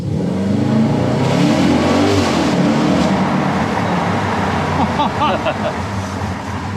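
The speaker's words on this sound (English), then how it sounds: "I'm going to launch it through the tunnel" Audi RS4 B8 with S-tronic gearbox launched hard through a tunnel, its engine roaring loudly and steadily rising as it accelerates, with the echoing enclosed space adding a dense rumble throughout.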